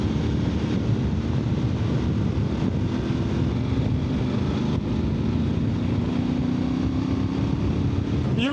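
Steady engine drone and road rumble from a moving Voge Rally motorcycle, continuous and fairly loud throughout with a slowly rising whine in the middle.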